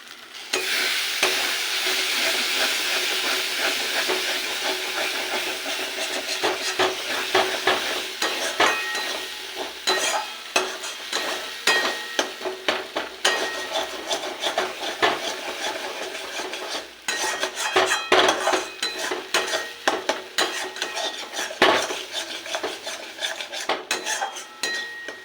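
Pointed gourd paste fries and is stirred in a pan, a steady sizzle broken by repeated scraping and clinking of a utensil against the metal, continuous and close with no voices.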